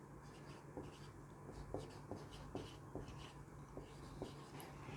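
Chalk or marker writing on a board during a physics lecture on gravity, a series of faint, regular short strokes in a quiet room with no talking.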